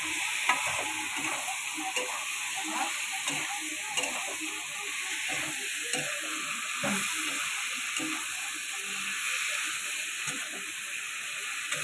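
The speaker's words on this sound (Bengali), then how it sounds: "এই মশলা দিয়ে তরকারিটা এবার কষিয়ে নেবো।" Curry with spices sizzles and hisses steadily in a pan during sautéing, with continuous stirring scrapes and occasional taps close by, no speech.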